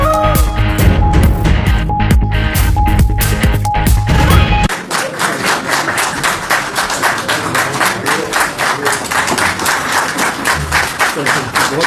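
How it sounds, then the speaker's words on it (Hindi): Cabinet members applauding the prime minister, loud steady clapping from a room of people that keeps going throughout, with a change in recording partway through and no speech over it. "अरकान ने तालियां बजाकर वज़ीर-ए-आज़म का इस्तक़बाल किया।"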